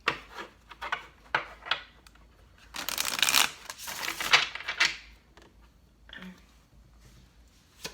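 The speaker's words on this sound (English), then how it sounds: "Last shuffle." Tarot cards shuffled by hand in a quiet room: a run of short riffling bursts, then a longer dense flurry of card rasping, fading to a few soft taps.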